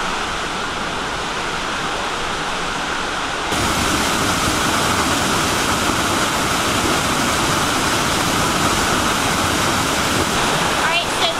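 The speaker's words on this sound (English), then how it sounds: "there are a lot of smaller waterfalls along the trail, but this is the first big one that you'll see" A big waterfall on a forest hiking trail in Georgia, a steady loud roar of rushing water that swells even louder partway through and continues without a break.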